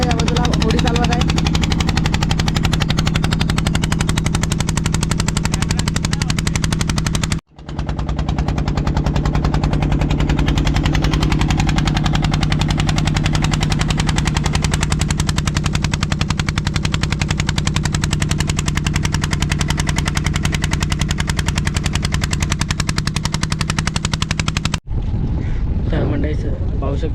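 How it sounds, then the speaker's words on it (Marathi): A motor fishing boat's engine runs on the sea with a loud, steady, rapid chugging. It cuts out briefly early on, then drops away near the end. "होडी चालवत आहे"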